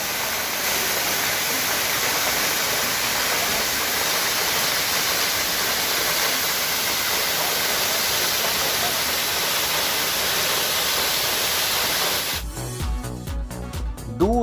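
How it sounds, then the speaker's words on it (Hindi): Doodhdhara waterfall on the Narmada river at Amarkantak, about 200 metres from Kapildhara, pours as a loud, steady, unbroken roar of falling water, close by. It cuts to a different sound near the end. "गिरता हुआ यह जलप्रपात लोगों को अपनी ओर आकर्षित करने में, उन्हें मंत्रमुग्ध करने में सफल होता है।"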